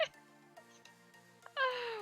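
A cat meows a couple of times, a high, drawn-out cry near the end rising over quiet background music.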